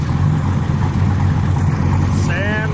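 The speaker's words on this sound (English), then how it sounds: "It's an IDI diesel engine." An IDI diesel engine in an offroad Jeep idles loud and close with a steady low rumble, and people talk over it.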